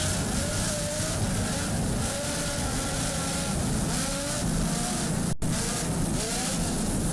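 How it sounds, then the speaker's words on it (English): An offshore racing powerboat driven by two 920 horsepower Lamborghini engines roars steadily at the Miami Offshore Grand Prix, a loud continuous engine drone with a brief dropout near the end. "Just listen to those Lamborghini power plants."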